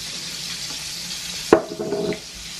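Sauce is stirred into homemade meatballs in an Instant Pot, a soft scrape and wet sloshing burst after a quiet stretch, then fading back to faint background hum.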